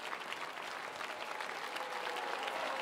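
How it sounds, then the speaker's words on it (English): Concert audience applauding an orchestra after a performance, a dense, steady wash of clapping from a large hall crowd, moderately faint and continuous throughout. "the applause seems likely to continue here and for some time"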